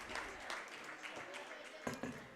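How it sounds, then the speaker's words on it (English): Fans at a Minnesota girls basketball game between Fertile-Beltrami and Climax/Fisher applaud in a soft, distant wash of clapping under an announcer's talk. "It's a round of applause from the fans here."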